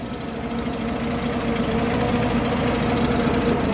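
The engine of an all-original 1951 Chevrolet Deluxe idling steadily, an even low throbbing rumble with a fine rhythmic ticking pulse, heard close and continuous without speech.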